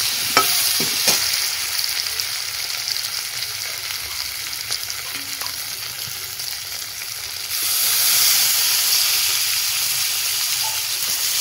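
Chopped onion fries in a pan with a steady, loud, hissing sizzle as it is stirred, with a few light scraping clicks early on. The sizzle surges louder near the end.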